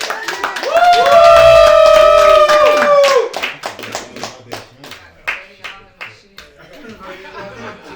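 Audience clapping hands together, a dense burst of applause at first that thins into scattered individual claps, with a voice speaking over the end.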